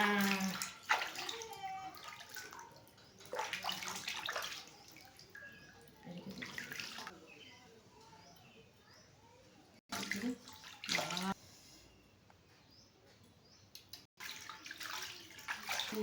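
Water is poured and splashes over small Gopal deity idols during their ritual bath. The pouring comes in intermittent bursts, close and moderately loud, with drips and handling noises between them.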